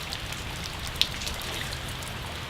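Steady, faint rain patters on surfaces, with one slightly sharper drop standing out briefly in the middle.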